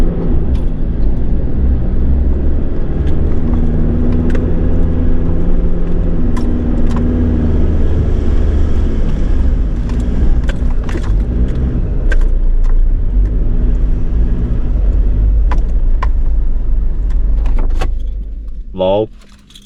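A 4WD creeping slowly through a sandy bank on Wedge Island, its engine a steady low rumble throughout with small knocks and jangles from the cabin, fading out at the very end.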